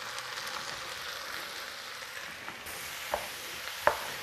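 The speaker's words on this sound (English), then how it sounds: "we're going to let these onions just cook down to nothing" Onions cooking down in butter in a pan for French onion soup, a steady soft sizzle with a couple of light stirring knocks near the end.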